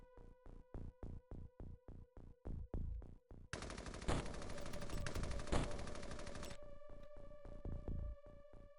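Automatic gunfire in an X-COM game: a quick series of sharp single shots in steady rhythm, then a continuous dense burst of rapid fire lasting about three seconds, followed by a lingering ringing tail and a few faint pops.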